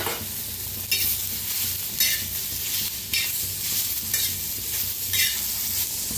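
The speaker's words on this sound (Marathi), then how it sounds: "हलकासा कांदा भाजायला लागलेला आहे, त्याच्यातच टाकूया टमाटर आणि कोथिंबीर," Onion, tomato and coriander sizzle in hot oil in a pan while a spoon scrapes and stirs them in several rhythmic passes. The sound is close and moderately loud, with no voices.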